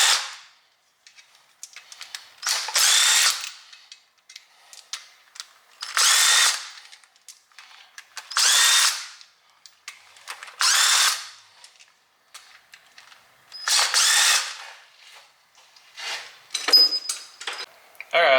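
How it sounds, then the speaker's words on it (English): Impact gun spinning bolts off the rear differential of a Lexus IS300 drift car, seven or eight loud high-pitched bursts of a few seconds each with short pauses and light clinking between them. "Looking at the rear diff here. We're going to go ahead, spin all the bolts off."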